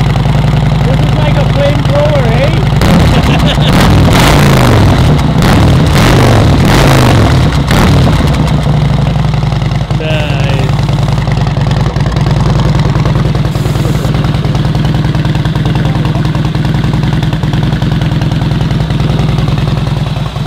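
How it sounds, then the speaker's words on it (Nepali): Motorcycle engines rumble at a bikers meetup of around three hundred riders in Canada, a loud, continuous low idle with occasional revving nearby, while people chat over the noise. "कस्तो लाग्यो कस्तो लाग्यो बाइकको साउन्ड"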